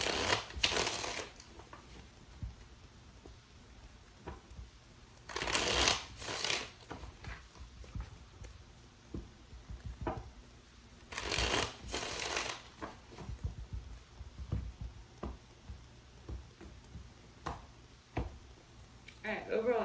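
A deck of tarot cards riffled and shuffled in three distinct bursts spaced several seconds apart, close and crisp, with lighter card handling and soft rustles filling the gaps.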